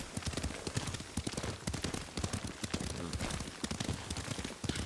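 Horse hooves gallop in a fast, steady clip-clop rhythm while riding in the Ghost of Tsushima video game, close and continuous with a dense, slightly rough background.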